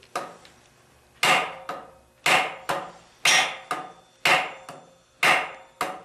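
Cold Steel G-10 frame Lawman knife, a light folding knife, has its spine struck hard against wood in a test, giving about seven sharp, loud cracking whacks at roughly even intervals, each ringing briefly before the next.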